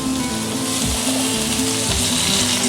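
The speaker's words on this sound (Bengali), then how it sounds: "এখন আমি সবজিগুলো দিয়ে দেবো, একে একে সব সবজিগুলো দিয়ে দেবো।" Mixed vegetables go one by one into hot oil with tempering spices for a Bengali pachmishali torkari, giving a loud, steady, close sizzle with a few low thuds and bursts as pieces land.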